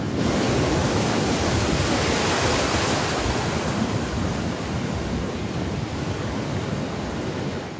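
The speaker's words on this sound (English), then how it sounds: "Mini tsunami hits Coastal Street." Roaring surf from a mini tsunami surging onto a coastal street, a loud, continuous broadband rush of crashing water and wind-buffeted noise that holds steady throughout with no voices.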